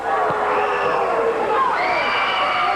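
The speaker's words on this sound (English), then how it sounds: "Turtle Lake's doing a little booing here now" A loud, sustained crowd at a 1987 Turtle Lake versus Clayton high school volleyball match, with Turtle Lake fans booing and jeering, drawn-out voices rising and falling in a steady wall of noise.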